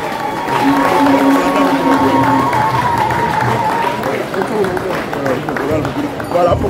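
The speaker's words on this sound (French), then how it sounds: "Donnez l'applaudissement." A large festival crowd in Cameroon applauds and cheers loudly and continuously, with voices mixed into the noisy roar of clapping.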